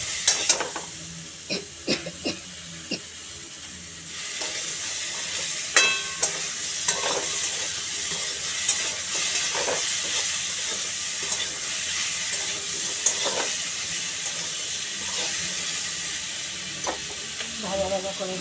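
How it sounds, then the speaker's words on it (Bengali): Potato and ridge gourd fry in a pan with salt and sugar, giving a steady bright sizzle and hiss throughout, broken by repeated scraping and clinking stirs of a spoon against the pan, close and fairly loud. "ভাজা ভাজা করে নিচ্ছি।"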